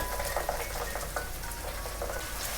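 Carrots, peas and curry leaves fry in oil for Hyderabadi bagara rice, making a soft continuous crackle with light popping spatters at a moderate distance, no talking.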